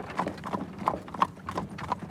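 Horse hooves of carriage horses on Central Park South clip-clop in a steady, even rhythm on pavement, about six crisp strikes at moderate distance with faint street background.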